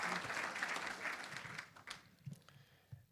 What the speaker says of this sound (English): That deserves a round of applause for sure.